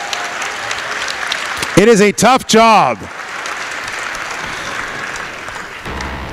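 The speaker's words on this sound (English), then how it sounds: "let's have a big round of applause for the awards judging panels." Applause rolls on at a business excellence awards gala, filling the room underneath. A voice speaks loudly over it for about a second.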